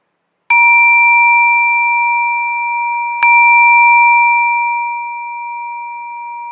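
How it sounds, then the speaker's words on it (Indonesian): A bright metal meditation bell is struck twice, several seconds apart, each strike ringing out clearly and sustaining a long, slowly fading tone. "Seiring dengan suara genta yang berkumandang, silakan membuka mata Anda."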